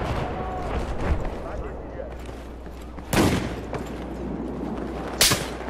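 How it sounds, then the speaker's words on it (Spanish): Battlefield 4 gunfire crackles through a dense battle mix, with two sharp, loud bursts standing out over a steady rumble of distant shots and explosions. "No veo de dónde me están disparando"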